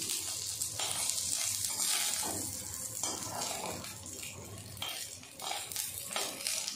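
Fish sizzles in hot oil in a home kitchen pan, a steady bright crackle and hiss with occasional stirring scrapes of a spatula, close and loud with no talk.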